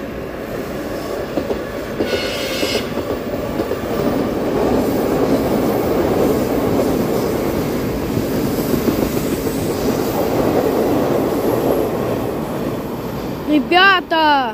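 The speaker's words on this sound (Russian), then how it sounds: "Я поймал новый тематический поезд. Это Крым." The themed passenger train 'Crimea' rolls past on the railway, a long steady rumble with clickety-clack wheel beats, a brief brake squeal near the end, and no talk over the passage.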